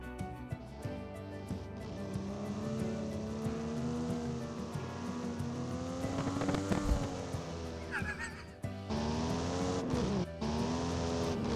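A car drives in the rental-business game Rent A Car 2024 with a steady engine drone whose pitch climbs as it accelerates. It shifts and revs around midway, and the tires squeal briefly. No one speaks.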